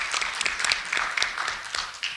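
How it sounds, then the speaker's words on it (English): Audience applause at a Bayonne Board of Education public meeting honoring outgoing board trustees, a steady wash of many hands clapping throughout, moderately loud and continuous with no talk over it. "please round of applause"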